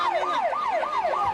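An ambulance siren wails at a disaster scene, sweeping up and down in quick repeated cycles, loud and close, with no voices over it.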